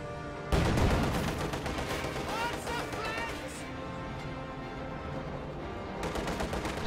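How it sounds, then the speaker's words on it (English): Gunfire from a tank's coaxial machine gun on a T-34 in a World War II strategy game, sustained loud rattling bursts dense throughout with battle noise. "There goes that guy to the coaxial machine gun."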